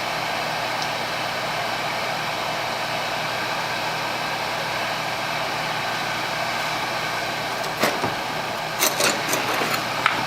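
A furnace combustion blower runs with a steady, even broadband whoosh of moving air throughout, held at constant loudness, with a few brief clicks and knocks near the end.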